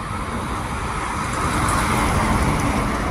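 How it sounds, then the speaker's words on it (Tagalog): Car traffic streams along a highway lined with pine trees, a continuous, fairly loud roar of passing vehicles with no pauses. "Dito na ako sa may highway."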